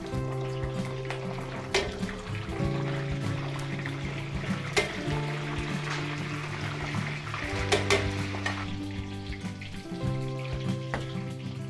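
Embutido frying in hot oil in a pan, giving a steady close sizzle with crackles throughout, alongside a faint stirring or clinking sound.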